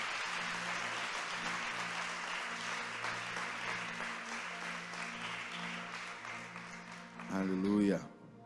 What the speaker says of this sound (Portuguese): Dê a sua melhor salva de palmas ao Senhor.